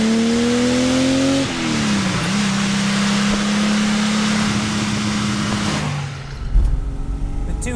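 A Ferrari 275 GTB/4 with its front-mounted 3.3 litre Colombo V12 drives past loud and close, the engine note holding steady, then dropping as it shifts and pulls away.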